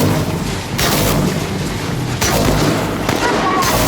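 Gunfire in the shooter game Chernobylite: heavy, booming bursts of shots crack continuously at close range, with rough, loud blasts layered over one another.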